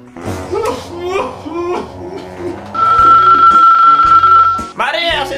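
A steady electronic ring from a doorbell in a family home sounds for a couple of seconds amid voices, cut between talking and animated chatter before and after.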